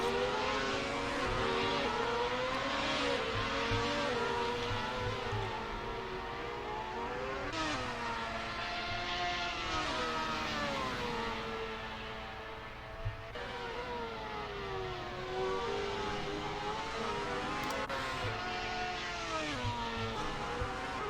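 Race cars lap Monza in the Assetto Corsa racing game, engines rising and falling in long revving sweeps as they accelerate and shift gears, loud and continuous with no talking.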